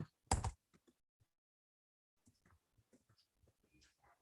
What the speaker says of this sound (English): not finished typing now.